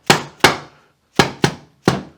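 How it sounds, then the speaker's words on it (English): A dead blow hammer taps the sump cover of a Honda GC engine five times in two quick pairs and a single, each a sharp, close knock with a short decay. "you may need to give it a couple of taps with a dead blow hammer just to kind of help everything seat down"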